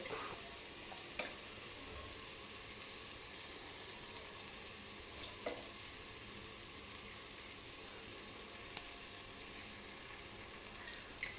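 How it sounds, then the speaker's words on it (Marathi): Spices frying in oil for Maharashtrian masale bhat produce a faint, even sizzle that runs throughout, with a few soft clicks of stirring and no talking. "यामध्ये आपण थोडंसं अजून तेल घालून घेऊयात।"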